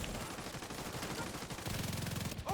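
Rapid automatic gunfire in a video game shootout, dense repeated bursts at low level with a sharper stretch near the end, no voices heard.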